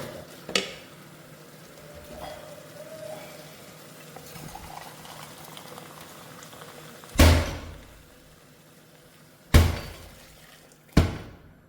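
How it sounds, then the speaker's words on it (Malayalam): Hot water gurgles and bubbles steadily at low level as it is poured into a pot of rice and prawns, broken by a few sharp clanks and thuds near the end. "നന്നായി തിളച്ച രണ്ട് കപ്പ് വെള്ളം ഒഴിച്ചു"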